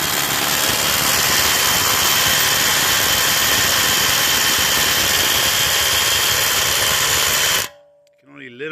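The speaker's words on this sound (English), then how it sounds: "I'll just show you the DeWalt drill" A DeWalt hammer drill in hammer mode, used on a stuck wheel bolt of a BMW 430 F32, runs loudly and steadily for several seconds with a dense rattling roar, then cuts off and a voice begins speaking.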